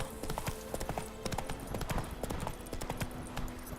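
Horse hooves of Roach in The Witcher 3 clip-clopping in a quick, steady trot, crisp and close, with faint background game ambience and no talk over them.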